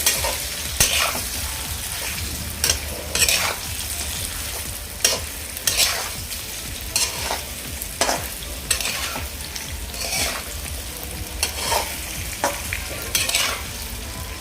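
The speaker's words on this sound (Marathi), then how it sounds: "आणि हे व्यवस्थित असं मिक्स करून घेऊया फोडणीमध्ये." Rice-flour fare pieces and salt are stirred through a sizzling tempering in a pan, with rhythmic scraping strokes of a spoon repeating over a constant close hiss of frying oil.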